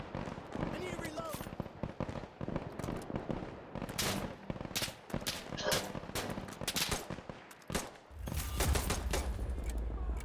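Rapid bursts of gunfire crackle in Insurgency Sandstorm, dense volleys of close and distant shots over ten seconds, with a player's voice talking over the shooting.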